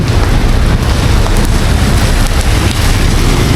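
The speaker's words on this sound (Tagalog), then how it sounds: "Ayaw tumigil yung ulan." Heavy rain pours down steadily in a dense, unbroken roar of water with no voices, on the road from Angeles City to Baguio City at night.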